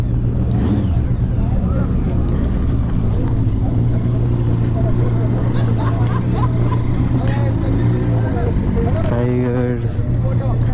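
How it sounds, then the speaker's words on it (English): Superbike engines rumble and idle at a group ride meetup in Hyderabad, a steady low drone beneath crowd chatter and nearby talking. "These are the different bikes that are here. Oh, you can hear the sound."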